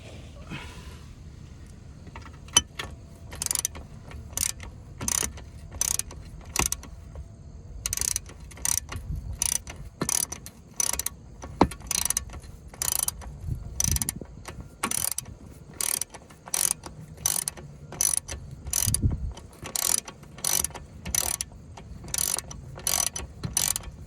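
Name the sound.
ratchet removing wheel well bolt on Ford Escape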